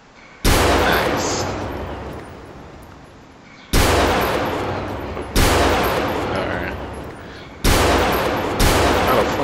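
Gunfire from soldiers in GTA 4 with an army mod comes as four loud, abrupt volleys of rapid shots, each bursting in and then trailing off into a long ringing decay.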